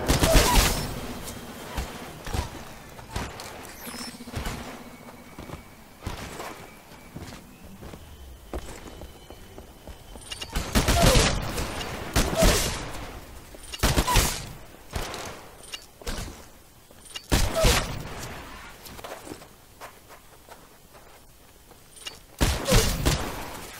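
Gunfire during a live fire exercise in the video game Titanfall: bursts of shots and heavy impacts come in irregular clusters, some loud and near, others fainter, with footsteps and low thuds between them.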